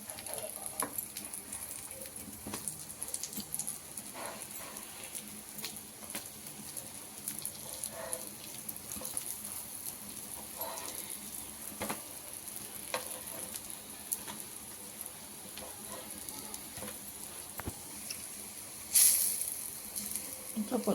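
Brinjal slices fry on a tawa over a medium flame, sizzling continuously with a bright crackle and scattered light scraping sounds, close and fairly even in loudness.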